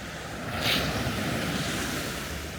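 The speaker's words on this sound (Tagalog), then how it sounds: "Malakas ang alon." Strong ocean waves at Myrtle Beach on a hot morning, a steady broad roar of surf with a brief swell of hiss, close and loud with wind noise on the microphone.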